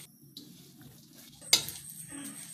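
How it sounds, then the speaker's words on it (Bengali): Cumin, cardamom, pepper and cinnamon dry-roasting in a hot pan: faint rattling and scraping of spices against the metal, with one sharp clink of a utensil striking the pan midway. "জিরা, সাদা এলাচ, গোলমরিচ এবং দারুচিনি আর অন্যান্য মশলার উপাদান প্রথমে গরম কড়াইয়ে ভেজে নিচ্ছি"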